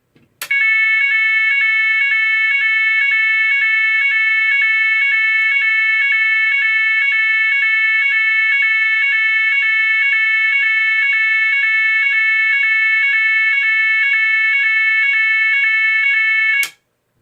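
A GE AS363 alarm sounds the NFS 32001 French fire alarm tone, a loud, steady two-note pattern of a longer higher note and a short lower note, repeating evenly and alone for about sixteen seconds.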